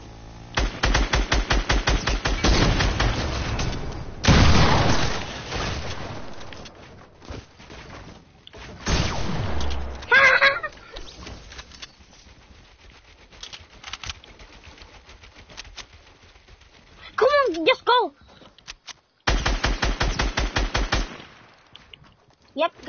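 Automatic gunfire crackles in rapid bursts during a competitive shooter match, with loud, close rattling volleys separated by quieter stretches, and a player talking over parts of the action.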